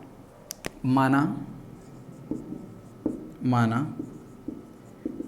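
Chalk scratching on a board during a Hindi-language class 9 physics lesson on force and the laws of motion, close rough strokes scattered through the clip while someone speaks over them.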